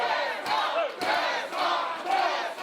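A wrestling crowd at an intergender indoor show roars in loud, sustained cheers and chants for the wrestler Zastor, swelling in waves with sharp shouts and whistles scattered through the noise.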